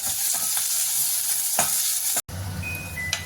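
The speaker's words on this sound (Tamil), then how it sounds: "கொஞ்சம் நேரம் நல்லா சுருளாக வணக்கிக்கலாம்" Onions and curry leaves sizzle and fry in a pan for curry leaf kulambu while a utensil stirs them, with a brief cut and quieter sizzling after.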